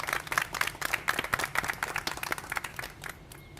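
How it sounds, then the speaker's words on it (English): Scattered clapping from a modest audience at a Thanksgiving dinner event, a fairly steady patter of hands that thins out toward the end, heard at moderate distance. "Let's have a big round of applause for her."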